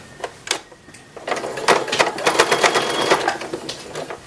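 Sewing machine stitching the side seam of a 1910s-style infant wrapper, a few short starts followed by a steady rapid whirring run, close and alone with no voices.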